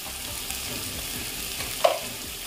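Eggs frying in a pan for an egg curry, a soft continuous sizzle with one brief louder clink or pop near the end.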